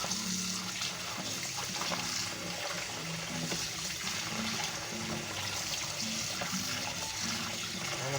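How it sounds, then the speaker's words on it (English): Water pours steadily from a tap into a bowl holding cut-up chicken, a constant rushing splash that continues without break, with a faint low hum underneath. "Then I'm going to run some more water in here."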